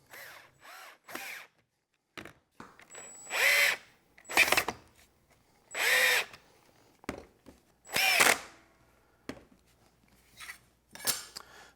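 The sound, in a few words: driving screws to attach angle grinder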